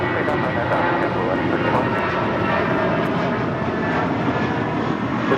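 A JetBlue airliner taking off from a runway at LAX roars loud and steady, a dense, continuous jet-engine rumble that stays close throughout with no break.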